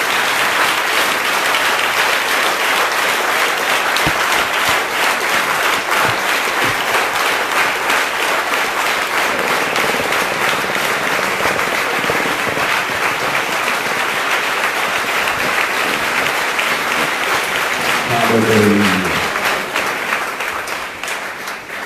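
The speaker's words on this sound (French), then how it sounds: "qu'un enfant de Dieu acclame fort son Dieu." A church congregation at a Sunday sermon applauds loudly and continuously for about twenty seconds, a dense wash of clapping that swells near the end and then begins to fade, with a brief voice briefly rising through it.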